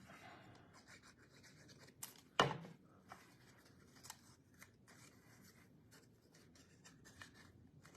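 Scissors make one sharp, close snip through a strip of paper for a card, followed by faint rustling and light handling sounds in a quiet room.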